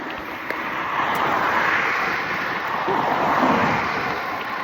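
Steady broadband wind rushes against the microphone while riding a mountain bike on a loop trail, a continuous roar with no pauses.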